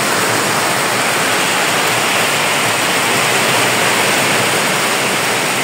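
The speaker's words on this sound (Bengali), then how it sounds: "আর বৃষ্টির যে একটা রিমঝিম শব্দ, সেই শব্দটাই কিন্তু মন কেড়ে নেয়।" Heavy rain pours down in a dense, unbroken hiss, loud and even throughout with no other sounds rising above it.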